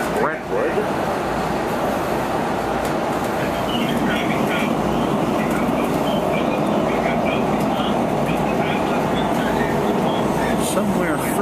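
Washington Metro Red Line rail ride past the Brentwood yards, a loud continuous rumble of wheels and carriage noise with faint clicking over the rails, close and steady throughout.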